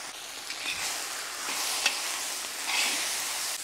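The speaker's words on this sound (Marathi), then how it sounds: "आपण आता हिरवी मिरची पण व्यवस्थित परतून घेऊ 2 ते 3 मिनिटं" Green chillies sauté in a pan for kharda chicken masala, a steady, close hiss of frying oil with occasional stirring scrapes, continuous throughout without speech.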